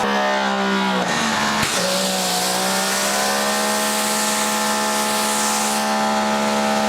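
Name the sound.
electric pressure washer spraying water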